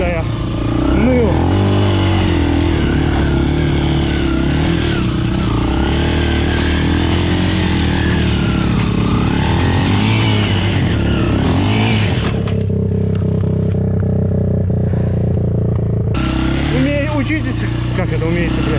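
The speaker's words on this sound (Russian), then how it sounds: "Че ты газуешь, Славик?" A Minsk X250 enduro motorcycle engine drones loudly and constantly, revving up and down with shifting pitch and mechanical clatter while people talk over it, briefly easing before picking up again.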